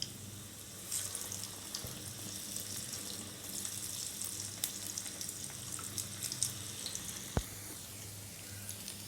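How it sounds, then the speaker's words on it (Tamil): Small balls of gram-flour bonda batter frying in hot oil, a steady broadband sizzle with a faint running-water quality, fairly constant throughout with one sharp click near the end. "எண்ணெய் காஞ்சதும் இந்த மாதிரி சின்ன சின்னதாக எடுத்து போடுங்க"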